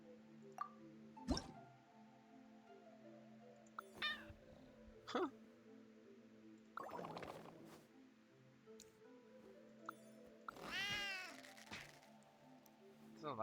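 Video game cat meowing several times in short bursts, with a long rising and falling meow near the end, set against steady game music and drip-like squishy effects, a voice briefly reacting between sounds.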